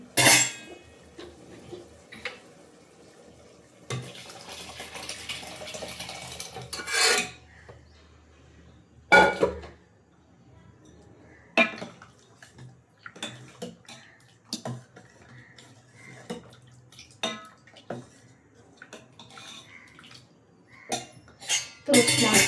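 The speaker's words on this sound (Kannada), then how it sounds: "ಏನು ಹೀರೆಕಾಯಿ ಬೇಯಿಸಿದ್ನಲ್ಲ ಅದಕ್ಕೆ ಹಾಕ್ತಾ ಇದ್ದೀನಿ" Cooked ridge gourd scraped from a vessel into a cooking pot of palak sambar in a home kitchen, giving scattered rasping scoops and metal clinks between quiet pauses, with no talk.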